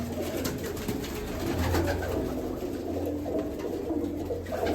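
A pigeon coos in low, repeated bursts over a rough, noisy background, close to the microphone, with no talk heard.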